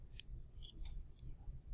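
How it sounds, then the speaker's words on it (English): Scissors snipping through paper straws, a few quick faint clicks and snips close by over a low background hum, no speech. "I just want to keep my scissors in there actually, and then turn it over and cut the same way again"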